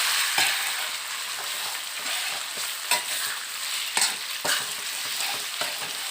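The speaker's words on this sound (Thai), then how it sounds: "เราใส่หมูได้เลยครับ หมูหมักครับ ใส่เลยครับ แล้วก็ผัดครับ" Marinated pork stir-fried in a wok for soy sauce noodles, with a steady broadband sizzle and repeated sharp scrapes of a utensil stirring the meat, close and loud with no voices.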